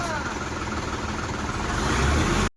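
A new tractor's engine runs in a village lane, a steady loud rumbling drone with voices mixed in, cutting off abruptly at the end.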